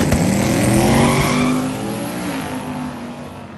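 An all-wheel-drive 3000GT with a swapped LS V8 roars hard off the line at a drag strip launch, engine note loud and close, then fading slightly as the car pulls away, with no voices.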